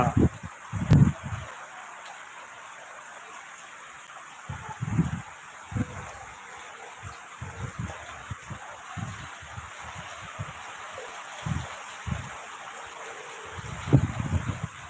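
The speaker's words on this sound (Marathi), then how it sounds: "हो खूप पाऊस चालू आहे" Heavy rain falling over farmland, a steady hiss of rainfall throughout, broken by low, gusty rumbles of wind buffeting the microphone.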